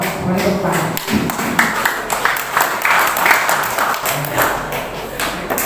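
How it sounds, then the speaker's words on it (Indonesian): Applause from a village deliberation meeting greets five newly elected board members of the Merah Putih village cooperative, a dense, steady clapping wash lasting throughout, with voices mingling in the crowd. "Kita beri aplaus."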